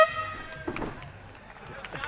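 Air horn sounding at a combat-sports fight event, a brief loud tonal blast at the very start that fades into crowd noise and commentary talk.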